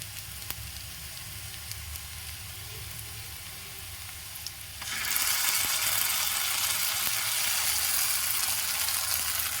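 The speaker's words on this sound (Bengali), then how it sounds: "পেঁয়াজটা খুব ভালো মতো ভাজা হতে হবে" Onion fries in a kadai on a home stove, a steady near sizzle that jumps noticeably louder halfway through and keeps crackling without pause.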